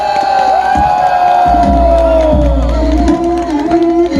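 A crowd at a live performance by a choir with its accompaniment team cheers and shouts over loud, sustained music, the mix dense and close throughout.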